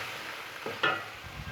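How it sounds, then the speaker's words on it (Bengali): Spices and tomato puree sauté in a pan with a low, steady sizzle, then a short scrape of a spoon and a brief louder spatter. "এবার ভালো করে কষিয়ে নেবো"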